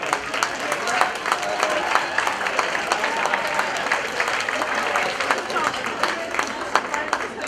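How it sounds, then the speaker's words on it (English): Applause from the crowd at a charity Halloween stage show, sustained lively clapping with scattered cheers and voices, steady and fairly loud throughout. "Give them a big round of applause, please"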